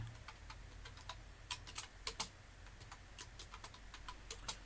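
Keys on a computer keyboard are tapped in quick irregular bursts, soft and close against a low background hum.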